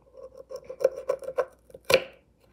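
A peanut butter M&M is cut with a blade: a run of crisp, close crunching taps speeds up, then one sharp loud crack as the candy shell splits, followed by quiet.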